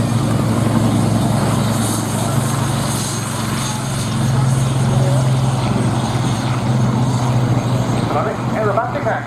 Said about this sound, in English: There goes the Blenheim 1S. And off the graphs, the Hurricane 1.